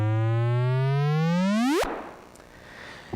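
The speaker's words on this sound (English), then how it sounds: "So here, first I'm going to play a binary neutron star signal." A binary neutron star gravitational-wave signal rendered as sound: a rising chirp sweeps steadily upward in pitch and loudness for nearly two seconds, then cuts off abruptly into a soft noisy hiss.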